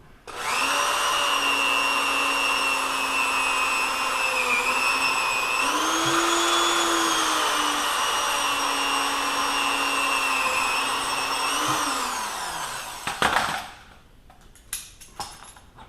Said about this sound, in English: Now it's time to drill it